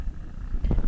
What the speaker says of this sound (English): my cat Lily says hi.